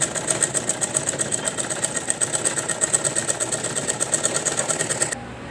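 A sewing machine stitches the side seams of a handmade fabric bag. It gives a close, steady rhythmic whirr and rapid needle thumping for about five seconds before it stops abruptly.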